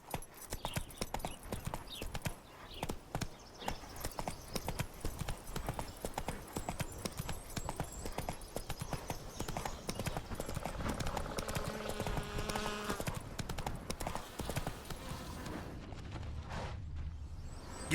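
Horse hooves galloping in The Witcher 3: Hearts of Stone, a steady rapid clip-clop running throughout, close and loud, with game music and ambience underneath and a whooshing swell near the end.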